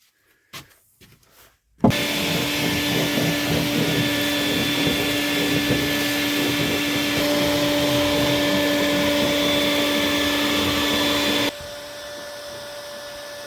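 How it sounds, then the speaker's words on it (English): After a few brief knocks, a vacuum cleaner switches on inside a converted school bus and runs with a steady, loud whine, then drops to a quieter hum near the end. "it ain't much fun listening to a vacuum in there"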